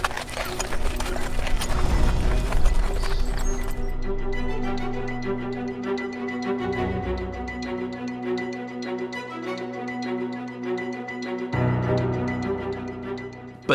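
Hooves of a large Shire draft horse clip-clop steadily over a firm surface, moderately loud beneath a broad wash of background sound.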